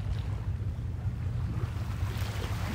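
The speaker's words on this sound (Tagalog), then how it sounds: "tunog ng tubig." Sea water washing on a beach at Ujina, heard as a steady low rumble of surf with wind buffeting the microphone, continuous and fairly close, with no voices.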